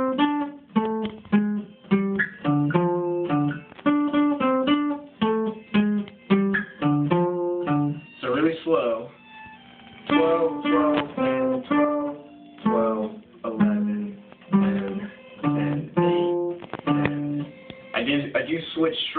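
An electric guitar plays a riff, its plucked single notes repeating in a steady, looping pattern up close, with a voice speaking briefly now and then.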